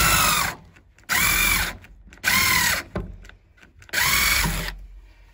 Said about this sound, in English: I've got my drill so I can drill pilot holes to get the eye bolts started.